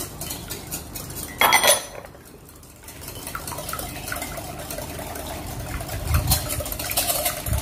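Three whole eggs for a glutinous rice flan being mixed in a bowl with a utensil, a close clatter of metal against the bowl with scraping and swirling strokes and a few sharper clinks, no talking.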